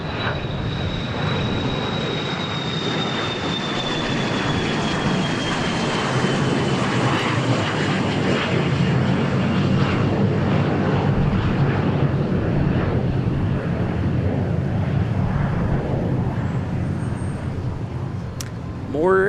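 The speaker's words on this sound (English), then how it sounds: "We've got another Jet Suite X" A JSX jet at Dallas Love Field roars loudly and continuously throughout, its engine whine sweeping slowly in pitch as it passes close by.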